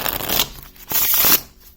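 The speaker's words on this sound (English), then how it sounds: "The more and more I shuffle this" FLWR Luxury gilded playing cards being shuffled in two quick riffling bursts, crisp and close, each a rapid flutter of paper edges, with no talking.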